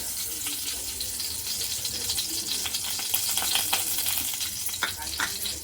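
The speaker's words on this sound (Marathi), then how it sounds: "तांदळाची खीर बनवण्यासाठी मी इथे तूप टाकले" Ghee heating and starting to sizzle in a pan while rice kheer is being prepared, a steady crackling fry with small pops running throughout and no talk.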